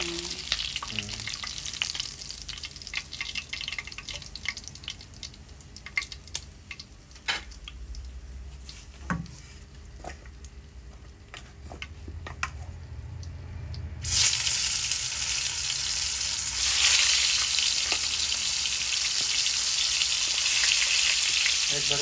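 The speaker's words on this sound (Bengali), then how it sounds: "ওই বেগুন দিয়ে একটু সাধারণ ভাজি করবে" Eggplant sizzles and fries steadily in a pan during home cooking of a Bengali dish, with scattered clicks and stirring scrapes; the sizzle swells louder and fuller partway through.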